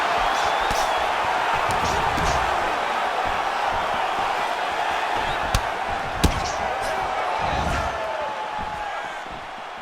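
An arena crowd in the UFC 4 fighting video game roars in a steady, loud wash throughout, with a couple of sharp thuds from strikes cutting through. A commentator-style voice talks over it.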